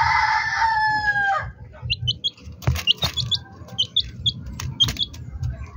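A chicken gives a drawn-out crowing call close by, then chicks peep in quick, high bursts over low clucking and shuffling in a backyard coop.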